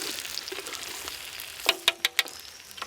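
Potatoes frying in beef tallow in a 150-year-old forged pan, a soft steady sizzle with a few sharp crackling pops near the end, close and moderately quiet.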